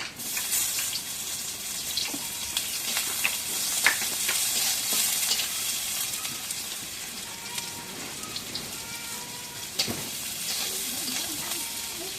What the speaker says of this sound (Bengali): এখন কড়াই তেল দিই। পেঁয়াজ কাটা দিয়ে দিই।